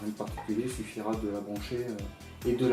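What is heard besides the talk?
No everyday noise stands out behind the speech.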